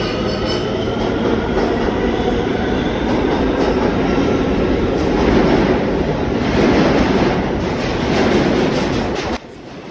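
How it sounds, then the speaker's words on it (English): An R160E subway train roars through a station for about ten seconds, a loud, steady rumble with rattling wheel clatter that cuts off abruptly near the end. "R160E train being somehow louder than the train that was in front of us"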